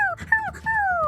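Dog whimpering: a few high, thin whines that slide downward, the last one drawn out, close and fairly loud with nothing else around.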